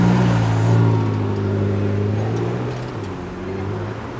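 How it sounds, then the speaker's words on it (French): A McLaren GT drives past on a street in Monaco, its engine note a smooth, fairly loud drone that shifts pitch as the car goes by. "Plutôt rare ça aussi, une McLaren GT qui passe là"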